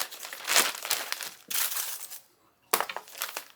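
A plastic Ziploc freezer bag crinkles in close, loud bursts, with three rustling spells split by a brief near-silent gap.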